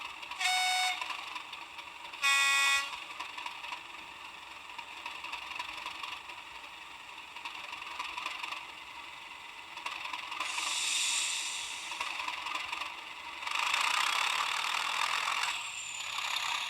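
Sound decoder on an N gauge model diesel locomotive hauling a heavy China clay train, giving two short horn blasts followed by a steady idling engine drone that swells and revs in waves.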